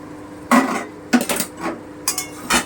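Metal lid clanks lifted from a pot of Bengali piyali fish charchari on the stove. Several short, sharp metallic knocks and scrapes arrive in quick succession, close up, with no talk.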